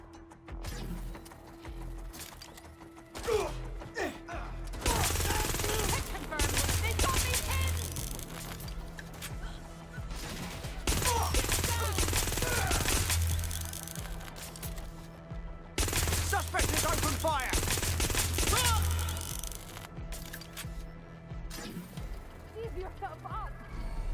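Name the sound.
gunfire in the video game Watch Dogs Legion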